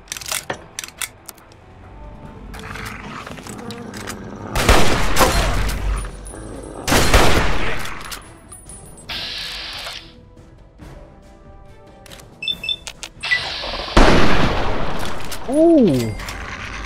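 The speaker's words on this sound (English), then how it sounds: "Let me use the hunting rifle, because they're using hunting rifles." Hunting rifles fire in Fallout 3's Point Lookout add-on as several loud, sharp shots ring out at irregular intervals with echoing tails, mixed with game effects and someone talking between them.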